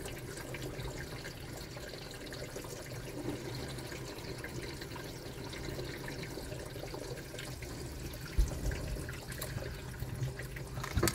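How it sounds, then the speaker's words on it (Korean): Water spraying steadily onto a Hyundai Forte Koup during a trunk leak test after a rear-end collision, a continuous hiss and patter from outside, fairly even and constant with a brief knock near the end. "지금 물 계속 뿌리고 있는 거예요."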